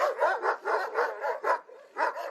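An Anatolian shepherd dog, Kangal or Malaklı, barks in a steady series of about eight deep, evenly spaced woofs, close and fairly loud with no voices.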